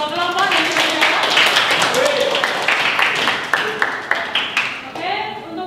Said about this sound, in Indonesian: Beri tepuk tangan buat dua kelompok yang sudah jawab.